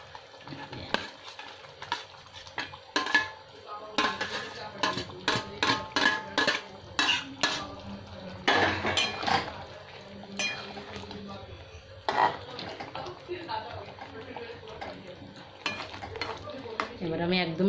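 Pre-fried pointed gourds (potol) for doi potol tipped into a pan and stirred, with repeated metallic spatula scrapes and clinks over a continuous sizzle.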